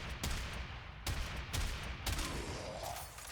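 Hek shotgun fire in the Warframe video game comes as a series of sharp, booming blasts about half a second apart, each with a short decaying tail, alone with no talk.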